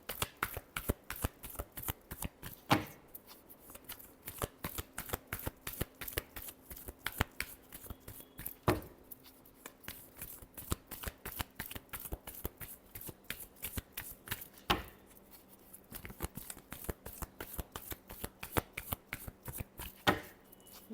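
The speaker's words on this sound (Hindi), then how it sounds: "Last shuffle." Tarot cards are shuffled continuously by hand, a dense, rapid riffling patter of crisp card slaps that keeps going steadily throughout, close and fairly quiet, with no talking.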